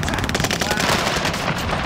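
Rapid automatic gunfire rattles loudly and continuously in a Call of Duty Warzone Resurgence match, with dense bursts filling the short stretch and voices faintly underneath.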